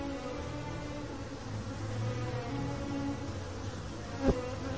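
A honeybee buzzes steadily while vibrating its wings, a close, continuous droning hum with a sharp brief click near the end.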